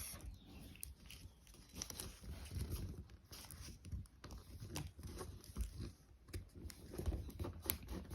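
Origami paper being folded and creased by hand, heard up close as a steady run of crisp rustles with frequent small crackles and snaps, fairly quiet and with no talking.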